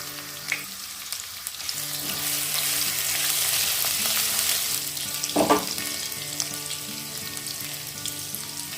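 Chopped ginger and green chillies sizzle steadily in about two spoons of hot refined oil in a pan, a continuous close frying crackle with a brief louder stir around the middle, no voices.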